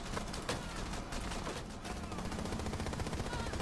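Rapid automatic gunfire from the video game Rainbow Six Siege, a dense, continuous burst of shots running the whole length, loud and close.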